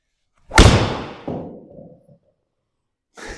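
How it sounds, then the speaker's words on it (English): A golf ball struck with a wooden driver makes one sharp, loud impact followed by a fading whoosh and rattle over about a second and a half; after a short silence a brief rustle follows. "Let's hit a proper ball with my wooden driver"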